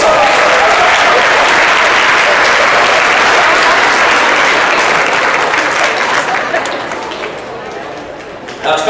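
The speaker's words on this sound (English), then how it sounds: "So let's give everyone a round of applause." A graduation audience gives a big round of applause, dense and loud for most of the stretch, then tapering off toward the end.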